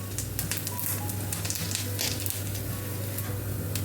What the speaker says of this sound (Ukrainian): продовжую смажити далі.